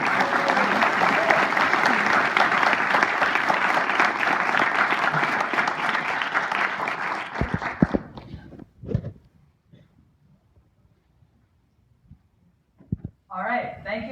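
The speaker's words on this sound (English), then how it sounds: "let's give a warm AAA welcome to Jillian Bellovary." Audience applause welcoming the lecturer at an astronomy talk at the American Museum of Natural History, loud and sustained for about seven seconds before fading into scattered claps and a quiet hall.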